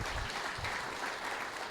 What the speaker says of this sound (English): A little round of applause for those folks.